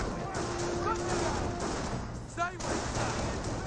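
Infantry gunfire from a Company of Heroes 1 battle, Panzer Grenadiers fighting at close range around an intersection: a steady wash of distant small-arms fire with a few sharper bursts, under a faint voice.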